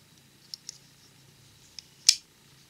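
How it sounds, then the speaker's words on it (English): Small metal parts of a Leatherman Wingman multi-tool clicking into place, a few faint light clicks followed by one sharper, louder snap, close up in a quiet room. "They just click into place."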